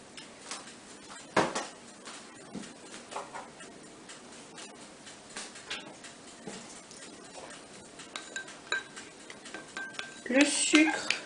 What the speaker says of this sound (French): On va mélanger la farine